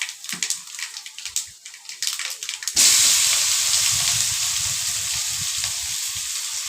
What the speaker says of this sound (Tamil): இதில் நெல்லிக்காயை போட்டு வணக்கணும்.